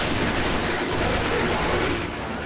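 Rapid automatic gunfire from the Resident Evil 5 video game, a dense continuous burst of shots that stays loud and steady throughout with no talk over it.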